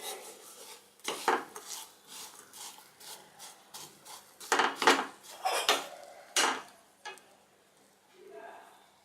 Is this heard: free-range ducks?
no